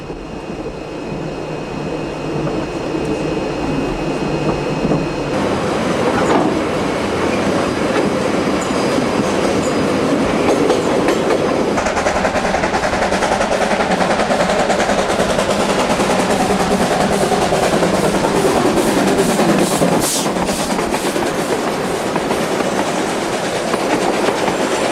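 Train on the line to Otira beginning a long uphill climb after a tight curve from Stillwater Junction, a steady loud rumble of wagons with clickety-clack and wheel squeal rising and falling, no voices.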